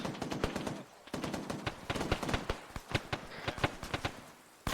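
Gunfire in the military game Arma 3 during squad training, dense bursts of rapid automatic shots, loud and close, with brief pauses between volleys and no talking in this stretch.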